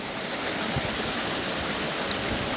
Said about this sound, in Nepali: यहाँ चाहिँ सानो खोला चाहिँ